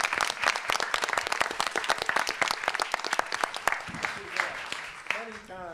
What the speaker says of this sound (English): The students deserve an applause as well.